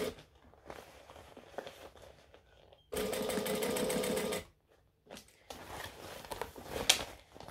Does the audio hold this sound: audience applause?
no